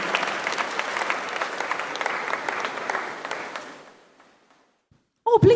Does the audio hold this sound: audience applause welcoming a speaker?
yes